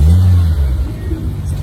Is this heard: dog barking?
no